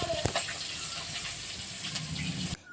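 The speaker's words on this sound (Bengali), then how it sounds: "আমি মাছগুলো ভাজতে শুরু করে দিয়েছি" Fish frying in a pan in a home kitchen, with a steady sizzle and hiss of hot oil, a few clinks and stirring sounds near the start, and faint voices in the background before it cuts off abruptly.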